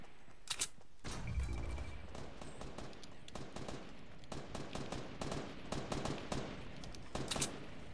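Gunfire rings out in a Fortnite match: a sharp shot, then a heavy blast followed by bursts of rapid automatic fire and scattered single shots, fairly close and loud, with no voices.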